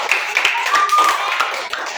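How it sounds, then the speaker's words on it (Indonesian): A classroom of students gives a round of applause after a group presentation, brief scattered clapping with a few sharp claps while voices murmur faintly underneath. "Silakan kita kasih aplaus dulu."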